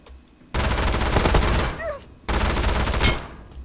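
Automatic gunfire from PUBG Mobile, two dense sustained bursts of rapid shots separated by a brief pause, loud and close in a battle royale match, with no talk over it.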